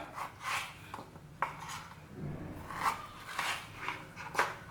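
Ash gourd being cut into small pieces with a knife on a board makes soft, faint, irregular slicing and tapping sounds, close and quiet.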